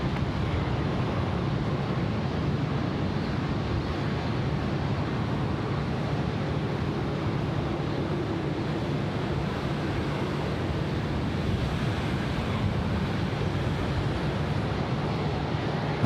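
A Cathay Pacific airliner passes at Sydney Airport as a steady, broad jet roar that holds evenly throughout with no clear rise or fall.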